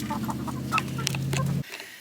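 Barred Rock chickens in a coop cluck and murmur close up in a dense, continuous chatter of overlapping calls that cuts off abruptly near the end.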